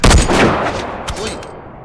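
A single loud sniper rifle shot in a video game, sharp and close with a rolling tail, followed by a faint secondary crack as it fades.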